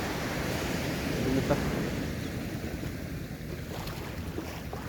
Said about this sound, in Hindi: ये गंगा की लहरें सागर की लहरों में मिल गई है